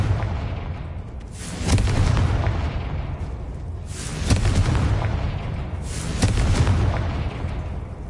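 Confringo spell explosions in Hogwarts Legacy, three heavy booming blasts a couple of seconds apart, each a loud deep burst that rumbles and fades before the next one hits.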